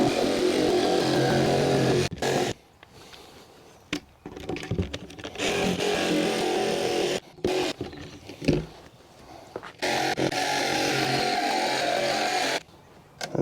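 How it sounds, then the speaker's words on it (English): A jigsaw fitted with a wood blade cuts along a marked line in a wooden board. It runs close and loud in several buzzing bursts, with short pauses between the cuts. "Go ahead and get a jigsaw wood blade on it"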